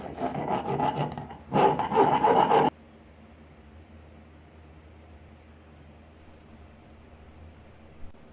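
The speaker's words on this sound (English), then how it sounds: "A round file was used on the ends of the slot." A round file works the ends of a slot in a metal saw clamp, making close, loud rasping strokes, two bursts in quick succession, then near silence.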